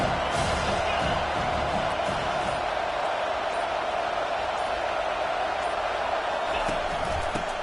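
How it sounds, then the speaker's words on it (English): A football stadium crowd roars at full throat, a dense, steady wall of cheering that never lets up. "This crowd, full throat, splitting the eardrums and letting them know it's going to be a long day."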